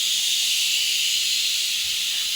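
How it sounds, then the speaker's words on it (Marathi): A pressure cooker on a home stove gives a steady, continuous hiss of escaping steam for a couple of seconds, fairly loud and close, with no voices. "आणि मी लावलाय कुकर"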